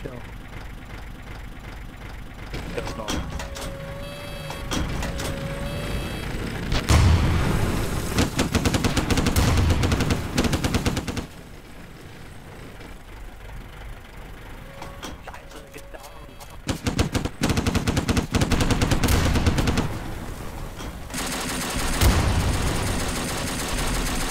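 Gunfire in a WWII Soviet video game: bursts of automatic fire and shots come in several loud stretches, with a steady engine rumble and talk between them.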